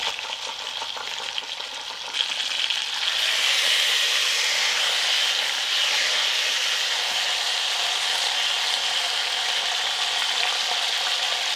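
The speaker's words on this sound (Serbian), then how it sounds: "okrećem meso na drugu stranu i pržim dok ne uhvati ovako finu koricu" Meat sears in a hot pan after being turned to brown its other side, giving a loud, steady sizzle that swells after a couple of seconds and then holds a dense crackling hiss throughout.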